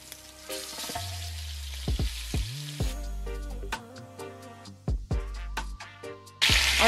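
Jamaican oxtails searing in a Dutch pot, an ongoing sizzle with repeated bumps and clunks as pieces go into the pan, ending in a louder burst of frying, close by and without voices.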